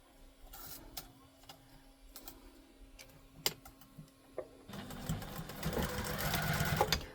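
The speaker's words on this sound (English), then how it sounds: "I'm going to take that to the sewing machine and I'm just going to sew that down." A sewing machine stitches down the end of a zipper on a tote bag, starting with scattered close clicks and taps before breaking into a steady, fairly loud whirring run of stitching for the last few seconds.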